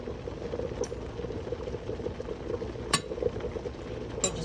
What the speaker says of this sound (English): After 15 minutes of boiling, my potatoes are ready.